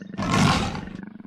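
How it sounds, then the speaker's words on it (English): A leopard gives one loud, rough roar that swells for about half a second and then trails off into lower grunting breaths, heard close and alone. "Like the other big cats, they have a great roar."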